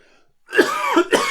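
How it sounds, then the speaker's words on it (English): Two sharp coughs close to the mic, the first a bit longer and the second short, after a brief faint moment. "got a bit of a cough at the moment"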